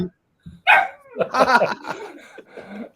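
A dog barks and yips in a loud, uneven run of several sharp bursts close to the microphone during a video call.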